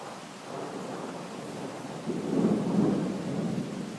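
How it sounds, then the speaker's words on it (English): Deep thunder rumbles and swells through steady heavy rain during a late-night thunderstorm in Riga, the roll building midway and lingering close and loud with no voices. "That thunder is immense."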